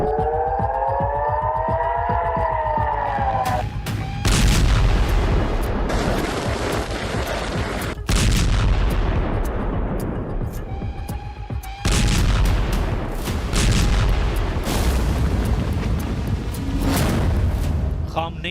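A barrage of missile and rocket explosions from a Hezbollah attack on Galilee in northern Israel: loud, dense booms and rumbling roars that pile on one another with hardly a pause.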